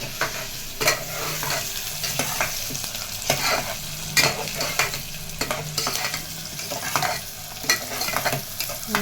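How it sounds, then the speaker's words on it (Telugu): Goat tripe frying until brown in a pan, a continuous close sizzle broken by repeated spoon scrapes and stirs at an uneven rhythm, no talking. "బాగా మనకి బ్రౌన్ కలర్ వచ్చేట్టు వేగాలి"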